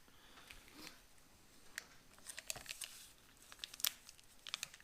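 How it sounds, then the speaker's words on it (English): A military MRE lemon beverage base powder packet is torn open, with faint crinkling of the foil-like pouch and several sharp tearing rips, close but quiet. "Going to rip this guy open."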